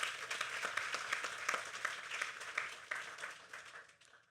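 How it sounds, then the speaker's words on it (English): Audience applause fills a graduation ceremony at a technical studies school in the Virgin Islands, a dense, steady wash of many hands clapping that holds for several seconds before thinning and fading at the end. "Give them a round of applause, please."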